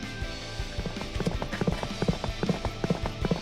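Rapid, rhythmic hoofbeats of a giant horse in the Fate/Grand Order game, clip-clopping steadily and fairly close with a galloping cadence, alone without talk.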